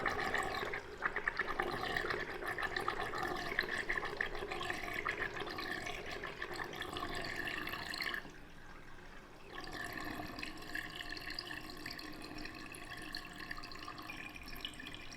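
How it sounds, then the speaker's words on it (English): Water draining from a bathroom sink after the drain plug is pushed open, a steady close gurgling rush that dips briefly and then carries on to the end. "Push the drain and we'll let it go."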